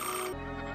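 A telephone rings in a 1978 science-fiction film, one short electronic ring close and clear with no talk over it.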